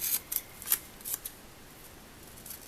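Scissors snipping through paper while cutting out a clip, a few quick faint crisp snips in the first second, then quiet.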